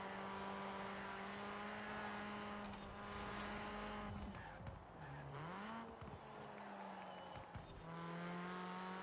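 A track car in a racing video game climbs a hill on its final lap, its engine droning loud and steady, pitch rising and dipping with gear shifts and revs, close and continuous with no speech.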